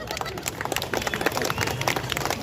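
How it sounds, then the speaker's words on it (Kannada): An audience claps hands in a dense, uneven patter that holds steady at moderate loudness for the whole stretch, with a faint murmur of crowd noise underneath. "ಒಂದು ಸ್ವಲ್ಪ ಚಪ್ಪಾಳೆ ತಟ್ಟಿ ನೋಡೋಣ."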